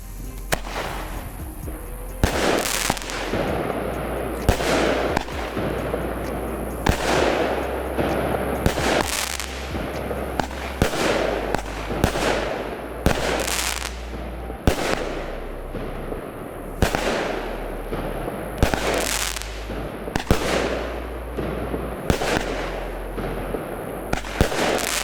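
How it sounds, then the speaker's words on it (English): Pyro King Wild Stallion 16-shot firework cake firing a steady run of loud, sharp bursts at roughly even intervals, each crack followed by crackle and rumble, with no voices. "A 16-shot Wild Stallion by Pyro King."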